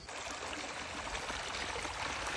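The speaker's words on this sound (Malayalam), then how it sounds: "ഞാൻ ഈ വെള്ളം ഇങ്ങനെ പോകുന്ന ശബ്ദം ശരിക്ക് ആസ്വദിച്ചു" Water rushes steadily along an irrigation channel on a farm in Hatta, UAE, a continuous close gurgling flow with no breaks and no voices.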